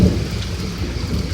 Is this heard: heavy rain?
yes